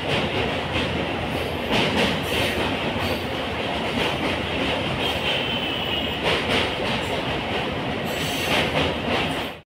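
A train running on the line from Dakshineswar to Bally Ghat station, loud continuous rumble of wheels with rhythmic clacking and occasional metallic squeal, heard from on board, steady for the whole stretch before cutting off abruptly.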